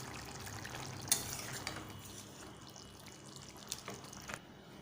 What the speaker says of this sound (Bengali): একটু জিরার গুঁড়াটাকে সামান্য পরিমাণে দিয়ে দিলাম, একটু নাড়াচাড়া করবো।